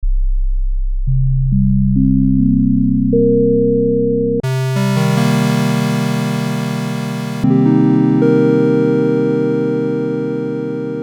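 Pure sustained sine-wave synthesizer tones from a software plugin preset stack up one after another, low pitches layering into a chord, then a brighter, harmonically richer timbre takes over.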